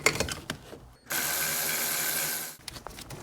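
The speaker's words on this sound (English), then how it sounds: "See if I can get my electric ratchet in there to loosen that." An electric ratchet loosens a bolt on a PT Cruiser engine during timing removal, giving one steady mechanical whir of about a second and a half, framed by clicks and clanks of tools before and after.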